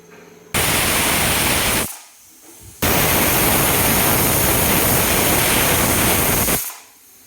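A loud, steady hissing whistle of a pressure cooker releasing steam, in two long blasts separated by a brief pause.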